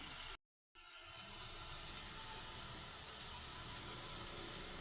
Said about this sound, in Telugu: అల్లం కొంచెం మిక్సీ చేసుకుంటున్నాను